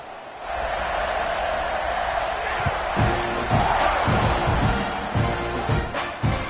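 A stadium crowd at an Arkansas football game roars steadily during a kickoff, a broad wash of cheering with sharp thumps and shouts rising in the second half, heard alone without talk.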